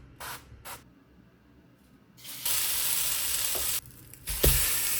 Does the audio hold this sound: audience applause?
no